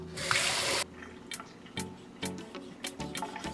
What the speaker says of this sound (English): my mom always stressed cleaning your meat really, really well